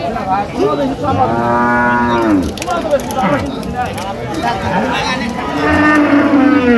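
Cattle low repeatedly at a busy livestock market in Raniganj, Dinajpur, where dairy cows and calves are sold. The long, loud moos overlap one another, and people talk nearby.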